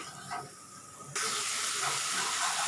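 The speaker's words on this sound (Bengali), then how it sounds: "এটাকে একটু ভালোভাবে নাড়াচাড়া করে নিয়ে খুব ভালোভাবে কষিয়ে নেব।" Masala for a hilsa and green banana curry fries in a pan while being stirred, a loud, steady hiss and sizzle that starts abruptly and then holds.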